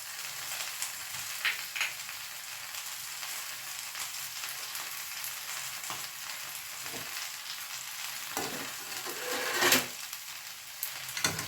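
Food with a spoonful of tomato sauce sizzles in a pan while being stirred and mixed, a steady close frying hiss broken by scraping spoon strokes, with no voices.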